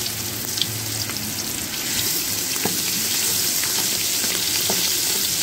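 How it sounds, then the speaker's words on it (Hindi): Garlic and ginger paste sizzles loudly in hot oil for a green rice dish, a dense, continuous frying hiss close by with faint stirring clicks and no talk. "तेल गर्म हो गया तो 1 चम्मच असी टेबल स्पून थोम अदरक की पेस्ट पा लेंगे।"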